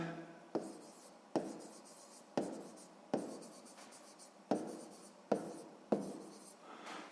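Pen writing out a math exercise answer on paper, a quiet close series of about eight sharp strokes, each fading quickly, in near silence.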